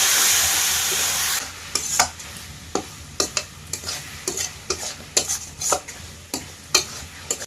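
River fish frying in cooked spice masala gives a loud hiss at first, then gives way to a series of sharp scraping and clinking stirring strokes in the pan with quieter sizzling underneath.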